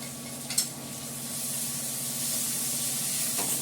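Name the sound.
cooking oil poured into a pan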